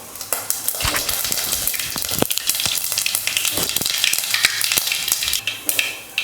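Mustard seeds, cumin and dried red chillies crackle and sizzle in hot oil in a pan for a chow chow sambar tempering, with dense popping spatters and steady frying hiss throughout.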